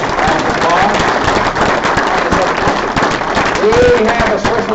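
Loud, dense audience applause and clapping for a panel at a power-washing trade event in Tampa, continuous and close, with a few scattered cheers and voices mixed in.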